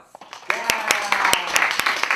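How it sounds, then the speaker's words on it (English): Audience applause at a gender-equality talk as a guest is welcomed on stage: scattered claps build into steady clapping with sharp individual hand strikes and cheering voices mixed in. "Please join me in welcoming him with a big round of applause"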